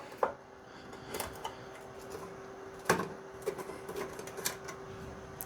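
A tiny 1/4 inch wrench works bolts on a snowblower housing: faint, scattered metallic clicks and ticks at an irregular pace, a few sharper taps standing out over a low steady hum, no talking.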